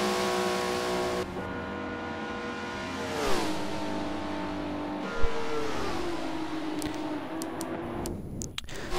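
Supra prototype race car engine in a Daytona endurance racing video game, loud and steady with sustained high revving, pitch sweeping down and up through gear changes, a few sharp ticks and clicks near the end.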